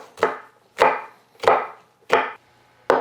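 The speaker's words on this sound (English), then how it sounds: "Then we'll just give these a rough chop." A knife roughly chops de-seeded jalapeno peppers and garlic on a board, five sharp, evenly spaced thumps close up with no talk.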